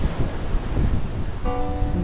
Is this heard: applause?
no